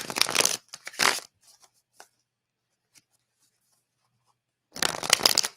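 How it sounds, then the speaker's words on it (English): A deck of tarot cards is shuffled in two quick riffling bursts at the start, then a near-silent pause with a few faint taps, and a final loud riffle near the end, close and alone. "Let me shuffle one more time."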